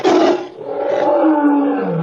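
A lion lets out a single loud, drawn-out roar up close, starting with a harsh burst and sliding down into a long, fading growl-like tail.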